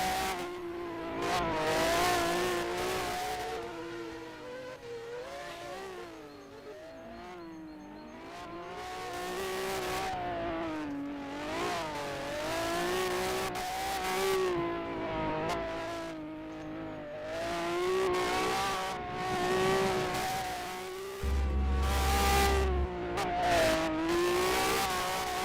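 Race car lapping a circuit during a 2023 time attack Super Car Sunday event at SNGP, its engine revving up and down through the gears in continuous swelling passes, with brief tire squeal, fairly close and loud throughout.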